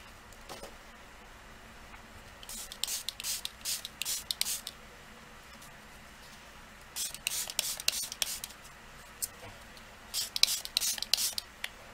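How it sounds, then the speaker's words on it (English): Three bursts of rapid hissing spritzes from a spray bottle filled with plain water, each a quick series of short pumps, separated by quiet pauses. "I've got a spray bottle that just has nothing but water in it."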